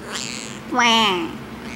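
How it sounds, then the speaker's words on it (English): A pet cat gives a single strained, hoarse meow that rises and falls, preceded by a faint short cry, close up with no one talking over it. "do you have a sick meow?"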